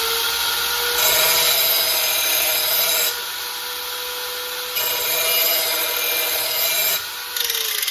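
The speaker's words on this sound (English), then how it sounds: "now I'm just gonna go over on the back side and get rid of any burrs" Steady rasping strokes of a file on a lawn mower blade's back side, taking off burrs, several long close passes with short pauses between them, no talk.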